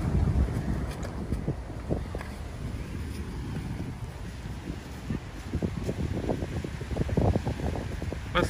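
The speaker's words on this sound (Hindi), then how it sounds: "यहाँ इतना ज़बरदस्त हवा चल रहा है" Strong wind blows at the seashore in Pattaya, Thailand, buffeting the microphone in rough gusts with low rumbling bursts that rise and fall, with no voices.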